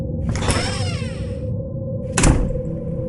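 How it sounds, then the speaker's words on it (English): A heavy oak church door swings and slams shut, first a long creaking scrape and then a sharp, loud bang with a deep thud, in a reverberant space. "They enter the heavy oak doors, and it slams shut behind them with a deafening boom."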